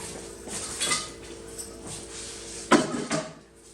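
Dishes and pots clatter in a cluttered kitchen sink piled high with washing-up, a few sharp clinks and knocks rising over a steady faint background hum.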